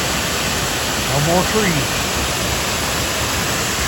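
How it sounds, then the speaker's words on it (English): Dog Slaughter Falls in Daniel Boone National Forest pours with a steady broadband rush of falling water, constant and fairly close, while someone briefly speaks over it. "Nice flow on the falls"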